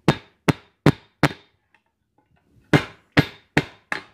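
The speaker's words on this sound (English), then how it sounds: "I'm at the swage block here, and I'm using a rounding hammer." A rounding hammer strikes hot metal on a swage block while a camp skillet is forged: four sharp, ringing blows, a pause, then four more at a steady pace, close and loud.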